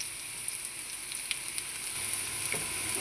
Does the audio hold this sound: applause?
no